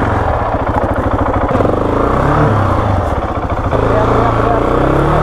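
A KTM 690 Enduro R motorcycle engine pulls hard and steady uphill over rocks, loud and close, with a throbbing single-cylinder note under a shouting voice.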